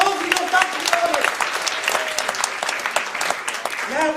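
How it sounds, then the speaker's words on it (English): An audience at a mentalism book-test show bursts into steady applause that fills the whole stretch, dense and close, with cheers and voices mixed into the clapping. "Give him a round of applause and go back to the audience."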